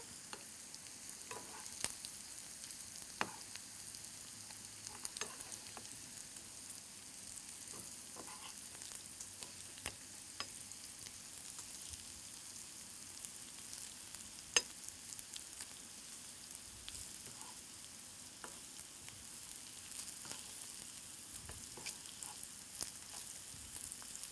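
Paneer and snack ingredients roast in a pan with a faint, steady sizzle and scattered light clicks of stirring, quiet and continuous throughout, with no voices.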